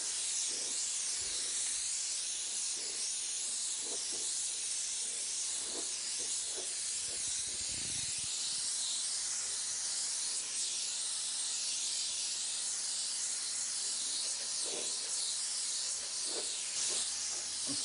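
A touch-up airbrush gun sprays paint while flames are painted onto a Hummer, a continuous close hiss of air and spray with faint clicks and shifts in flow.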